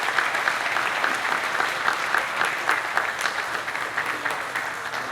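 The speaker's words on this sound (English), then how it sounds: "so give him a round of applause" An audience applauds a long-serving college football coach at a Springfield College centennial celebration, giving dense, sustained clapping throughout with a faint crowd murmur.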